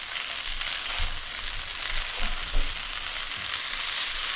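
Fried rice with vegetables and corn sizzles steadily in a pan as a home dinner cooks, with a dense continuous crackle and a few soft low knocks from stirring.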